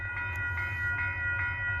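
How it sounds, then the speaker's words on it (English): A Metro-North commuter train, number 880 running from Poughkeepsie to Grand Central, rumbles past on the near track beside the Hudson River, with a steady low roar, whining tones and rhythmic clicks of the wheels over the rail joints. "Here comes train 880. Poughkeepsie to Grand Central."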